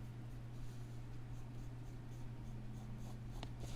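A pencil or pen scratches continuously across paper while an eagle is being drawn, close and steady, with a low constant hum underneath and no speech.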